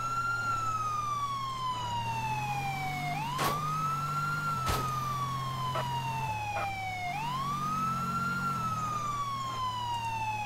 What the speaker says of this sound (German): Weil die Sirene auf Dauer geht mir so auf den Senkel.